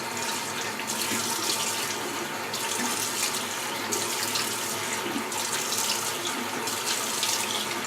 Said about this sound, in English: And then I'm going to go ahead and rinse.